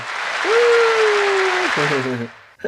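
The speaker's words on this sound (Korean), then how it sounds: "박수!" A brief burst of applause mixed with a rising, held tonal sound and a short chime-like melody near the end.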